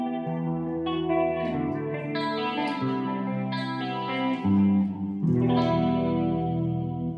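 Electric guitar through a Kemper and Engl hybrid setup, single notes and chords played in a flowing phrase with shimmering chorus-like modulation and a touch of grit, steady in level and heard alone without speech.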